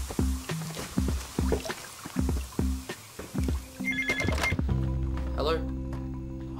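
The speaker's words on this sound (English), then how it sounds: "Quick, Em, the phone." A telephone rings in a domestic scene with a repeating burst pattern over background dialogue and incidental sounds, before the ringing stops and talk resumes.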